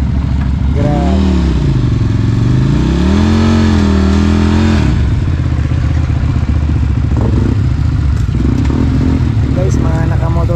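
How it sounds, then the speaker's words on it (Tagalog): Motorcycles ride past close by with loud rising and falling engine revs for several seconds, then a steadier engine rumble as they move on, with voices talking over the passing traffic. "Guys, mga nakamotor sila guys"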